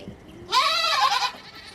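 A farm goat lets out one loud, wavering bleat lasting under a second, close to the listener, with quiet surroundings before and after.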